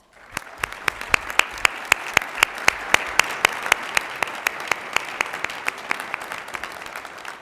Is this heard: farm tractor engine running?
no